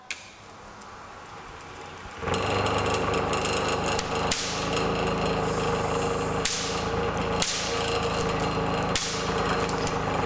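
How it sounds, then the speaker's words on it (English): Van de Graaff generator discharging to a small earthing ball: after a quieter start, a loud, continuous crackling buzz of sparks sets in, punctuated every couple of seconds by sharper snapping discharges. "as the large ball charges up, you bring the small earthing ball close and it discharges, ionising the air."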